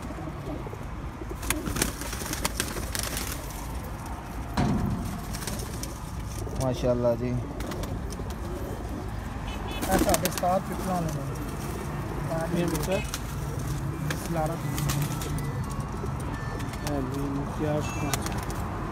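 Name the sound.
pigeons cooing on a rooftop loft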